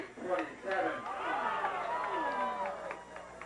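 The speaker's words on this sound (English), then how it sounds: "The crowd groans." A football stadium crowd lets out a collective groan at a high school regional semifinal, a swelling, sustained murmur of many voices that rises and sags over a few seconds.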